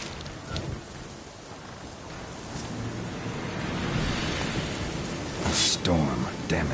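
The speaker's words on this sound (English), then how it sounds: "Storm, damn it." Heavy rain pours steadily in The Witcher 3, building in intensity, with a rumble of thunder swelling near the end of a loud, dense storm.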